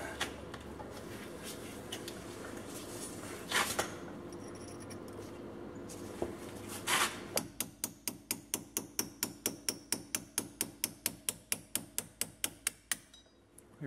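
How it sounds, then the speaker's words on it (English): Repeated hammer strikes knock a rusty ball joint out of a Jeep WJ front axle, starting with a few scattered hits and then settling into a steady, fast series of sharp metallic blows, close and loud. "break some of that rust loose and hammer it out"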